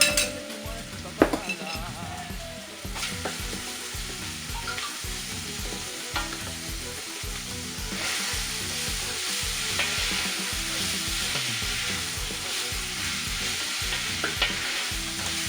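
Browned onions and a crushed spice paste frying in a pan while being stirred, a loud steady sizzle with a regular rhythm of scraping strokes and occasional metal clinks, no talking.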